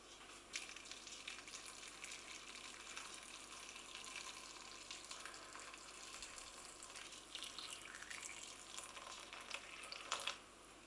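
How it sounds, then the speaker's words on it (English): Water poured from a tap or jug over a bowl of sun-dried tomatoes to rehydrate them in a home kitchen, a steady close hiss and splash running throughout, with a brief louder burst near the end. "So let's pour some water on and leave these to rehydrate."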